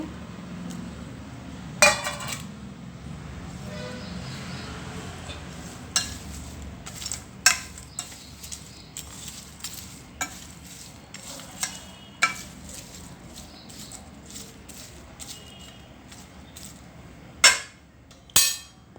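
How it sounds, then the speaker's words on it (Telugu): Peanuts and curry leaves stirred in a hot pan for a Telugu okra (bendakaya) fry, a quiet steady sizzle under repeated sharp scrapes and clinks of a metal spoon against the pan, with a few louder knocks near the end. "ఇప్పుడు ఈ పల్లీలు కరివేపాకు వేసి కలుపుకోవాలి"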